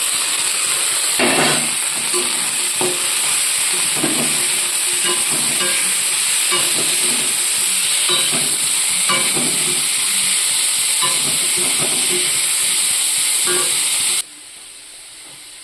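Potato and green chilli frying in a hot pan, a loud continuous sizzle and hiss with intermittent stirring scrapes up close, cutting off abruptly near the end.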